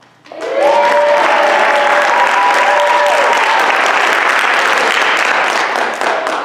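A high school play audience claps steadily and loudly, with some cheering and a few whistle-like tones over the applause, sustained for several seconds.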